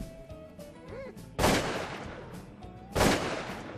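Two loud shotgun blasts about a second and a half apart boom across open wetlands and grain fields during a Canada goose hunt, each decaying quickly, with faint goose calls between them.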